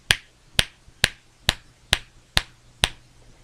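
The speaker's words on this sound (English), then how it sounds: "Here, I'll pop my fingers" Seven crisp finger snaps at an even, unhurried pace, fairly quiet against a faint background hum.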